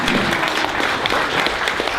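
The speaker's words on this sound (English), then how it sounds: "Sid Ryan would say that was tundrous applause, tundrous." Sustained applause from a large audience at a health care rally in Ontario, a dense, steady wash of clapping at close range that holds for the whole stretch with no voices breaking through.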